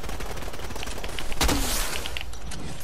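Fortnite gunfire in the middle of a battle royale match: one loud, sharp shot crack with a brief ringing tail. It stands out over a steady bed of game ambience, with faint sparse clicks and no voices.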